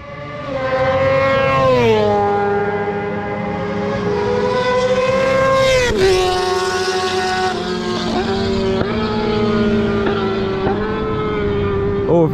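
A high-revving Kawasaki Ninja ZX-10R with a titanium exhaust roars steadily past at close range on a track, its engine note rising and dipping as it accelerates.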